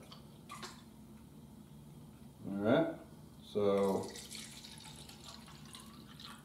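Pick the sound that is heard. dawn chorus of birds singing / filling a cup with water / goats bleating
filling a cup with water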